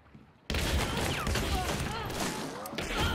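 Rapid gunfire in the Hunt: Showdown video game bursts in abruptly after a quiet moment, a dense, loud barrage of shots continuing throughout with some scattered effect sounds mixed in.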